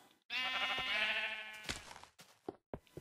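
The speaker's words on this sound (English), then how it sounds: "Hades, stupid sheep." A single sheep in Minecraft gives one clear, wavering bleat lasting over a second, followed by a few short clicks and taps in quiet surroundings.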